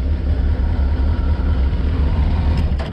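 A Suzuki GSX-R 1000 K1 motorcycle idling cold at around 1200 rpm, a loud, steady low engine drone close by with no speech.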